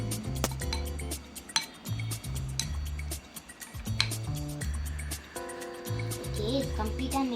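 Paneer fry ingredients are stirred in a bowl with a spoon, giving rapid, steady clinks and ticks against the bowl's side. The clinking runs close and continuous over a soft, tonal musical backdrop.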